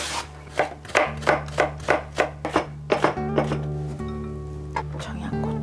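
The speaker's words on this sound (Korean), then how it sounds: "당근은 편리하게 채칼을 이용해 보겠어" A carrot is shredded on a handheld julienne slicer in a home kitchen, about a dozen sharp rhythmic scraping strokes in quick succession, then the strokes thin out, with a faint dog bark in the background.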